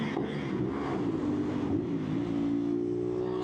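Inside a tunnel, a CFMOTO 450SR motorcycle with its silencer removed revs with a loud, echoing engine note, the pitch climbing steadily as the throttle opens.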